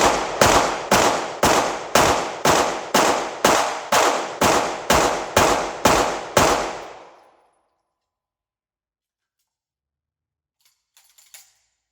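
Fourteen pistol shots fired in a quick, steady string during USPSA shooting practice, loud and evenly spaced, then silence with a faint clatter near the end.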